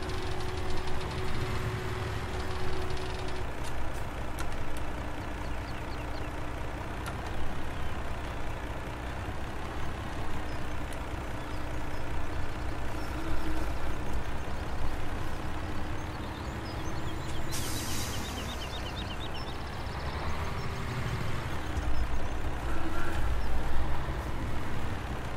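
A truck's engine drones steadily while it hauls a trailer in the Farming Simulator 17 farming game, a continuous low rumble with slight shifts in pitch and load, and no talk over it.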